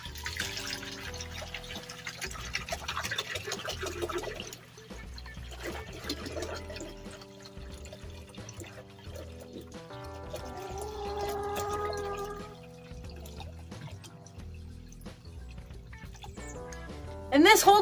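Water glugs and splashes in uneven bursts as a jug is poured into an upturned gallon chicken waterer, with a gurgling trickle and a louder pour at the end.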